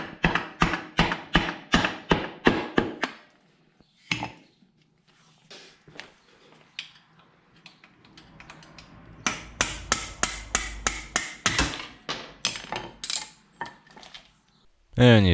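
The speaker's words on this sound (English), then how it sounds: "first I'm going to use the wooden hammer handle so I don't mess the threads on the bolt up" Sharp repeated knocks of a wooden hammer handle striking a steel engine bolt on a 2003 Honda Shadow 1100 motorcycle, delivered in quick rhythmic bursts with pauses between, close and fairly loud, with faint shuffling in the gaps.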